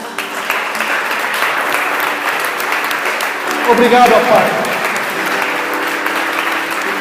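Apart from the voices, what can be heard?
congregation applauding the Lord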